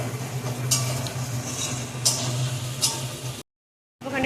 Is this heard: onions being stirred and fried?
yes